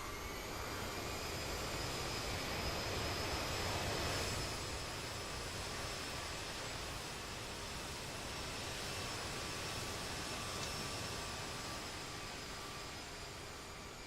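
Airliner jet engines roaring as the thrust reversers deploy on landing in a flight simulator game, a broad steady rush of engine noise that swells slightly early on and then holds, with no talking.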